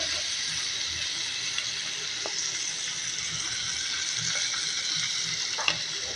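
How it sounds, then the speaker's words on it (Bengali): Fish frying in a pan in a home kitchen, giving a steady, soft sizzle and hiss with occasional small pops and stirring clinks throughout. "কীভাবে দেখেন আমি মাছটা ফ্রাই করি"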